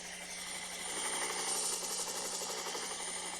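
A camera helicopter flies overhead at a pool (billiards) national championship match, giving a steady, rhythmically pulsing rotor and engine drone that holds at an even level throughout.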